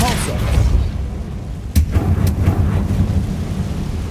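A Depulso force spell cast in Hogwarts Legacy lands as a sudden deep thump with a sharp crack partway through, rumbling over a dense game soundscape of low booms and effects.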